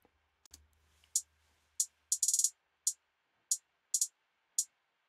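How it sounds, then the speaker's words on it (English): Simple hi-hat pattern for a dancehall beat: crisp, quiet ticks in an uneven rhythm, including a quick roll of rapid hits, over near silence. "Simple hi-hat. Simple hi-hat."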